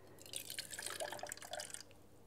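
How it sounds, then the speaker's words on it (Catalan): Water squeezed from wool is poured from one glass into another, giving a quiet, close trickle of splashes and drips that lasts about two seconds with no talking. "anem al got de la llana i posem tota l'aigua que hi havia dins"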